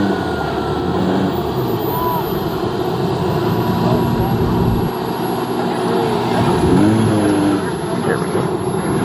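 A radio-controlled Pitts biplane in flight at a model airshow, its engine giving a continuous droning hum that swells and dips slightly as it moves around the sky.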